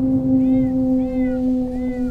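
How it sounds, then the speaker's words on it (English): A cat meows three times in a staged radio drama of Macbeth, each mew a short rising-falling cry spaced about evenly apart, heard alone over a steady low hum with no talking. "Thrice the brinded cat hath mewed."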